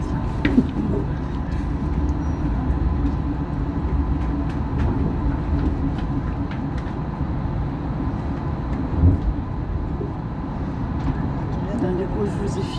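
A Tokyo monorail train runs between stations with a steady rumbling, whooshing drone and occasional rattles and clicks, recorded from inside the car, continuous and fairly loud throughout.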